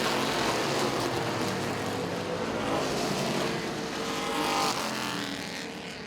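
Race cars roar around the oval at Baer Field Motorsports Park during the Summit City 100 night race, a loud, dense wall of engine noise with rising and fading passes throughout.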